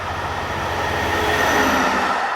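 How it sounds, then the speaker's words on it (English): A Europorte Vossloh DE18 diesel locomotive hauls a freight train of wagons carrying new beer bottles, giving a loud continuous rumble of engine and rolling wagons passing close by, with no voices. "This new Voslo DE18 diesel, number 418507, is operated by Europort and is seen here hauling train 60212"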